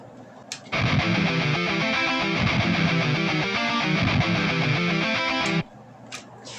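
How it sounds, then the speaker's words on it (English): Two guitars ring out together in layered, shimmering arpeggios, a steady bright stream of notes lasting about five seconds with brief quiet before and after. "if I just let those two guitars sound together, it will sound like this"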